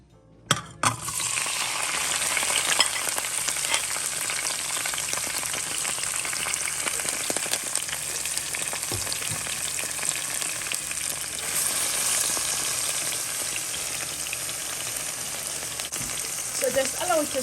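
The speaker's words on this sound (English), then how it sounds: "while my vegetables are getting sauteed" Vegetables sauteing in a pan for a vegetarian stew peas with tofu, a steady close sizzle and frying hiss with occasional utensil clinks and stirring scrapes throughout.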